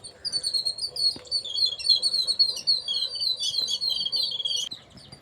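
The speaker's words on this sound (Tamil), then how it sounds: "சிட்டுக்குருவிகள்" Sparrows chirping in a village among farm fields in Tamil Nadu, a busy, overlapping chatter of high, quick tweets, close by and continuous with no talking.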